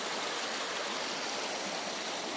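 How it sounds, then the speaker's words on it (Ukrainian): A babbling mountain stream in the Carpathians near Verkhovyna, a loud, continuous rush of flowing water heard close up, with no talking. "Цей шум водички просто бомба."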